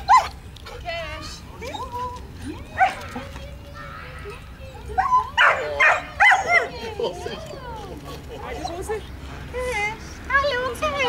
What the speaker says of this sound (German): Ihr guter Hund